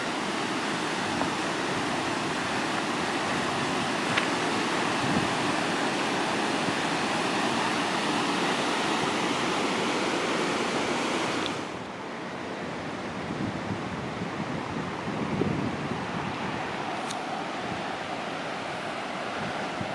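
Berea Falls on the Rocky River pours heavily at high water, a loud, dense roar with rushing spray that softens slightly about halfway through, with no one talking.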